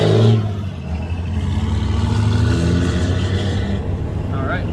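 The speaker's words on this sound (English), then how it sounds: "my engine is running super well, and it's just so nice, and it sounds better." A car engine runs steadily and fairly loud while driving, its choke freshly repaired so it pulls smoothly, a continuous low drone with mild revving throughout.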